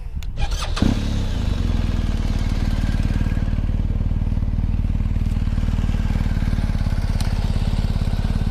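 A BMW R 1250 GS adventure motorcycle engine cranks and catches, then settles into a loud, steady, rumbling idle that continues alone at close range.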